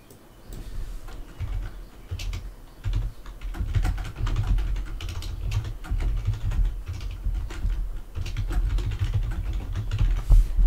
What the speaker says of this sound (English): Riveting typing here.